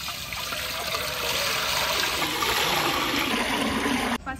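Water pours steadily into a large pot for boiling 4 kg of rice for mutton biryani, a continuous close rushing splash that stops abruptly near the end.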